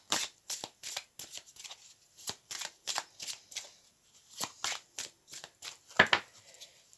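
Oracle cards being shuffled by hand, a quick run of crisp riffling bursts in an irregular rhythm, close and fairly quiet, with no voices.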